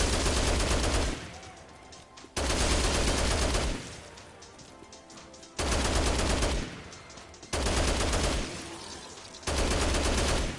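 Machine gun fire from Dead Rising Deluxe Remaster comes in four loud, sustained bursts, each a second or two long, separated by short quieter gaps.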